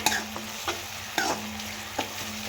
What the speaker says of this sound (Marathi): आता यात आपण जो बारीक कांदा कापून घेतलेला आहे तो सुद्धा यात टाकून घेणार आहोत आणि कांदा सुद्धा आपल्याला छानपैकी असा हा परतून घ्यायचा आहे